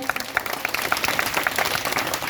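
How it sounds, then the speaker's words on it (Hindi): A crowd at a Bhojpuri stage program claps steadily, a dense wash of applause heard close and loud throughout. "एक बार जोरदार से ताली बजाई ले बारे निक्कू भैया खातिर"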